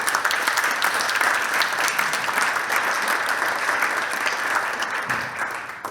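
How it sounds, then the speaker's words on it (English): Sustained audience applause at a blockchain and cryptoeconomics conference, a steady dense wash of many hands clapping at even loudness for several seconds before it tapers slightly at the end, with no talking over it. "Can we put a round of applause again for him?"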